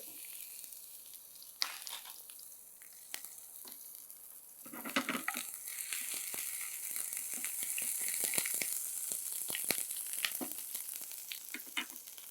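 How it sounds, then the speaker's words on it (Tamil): Chopped garlic dropped into hot oil sizzles and crackles steadily, the frying swelling louder and busier after about five seconds as the pan is stirred, with no voices. "எண்ணெய் சூடானதுக்கப்புறம் பூண்டை வந்து கட் பண்ணி வச்சுருக்கேன் அதை அப்படியே சேர்த்துருங்க"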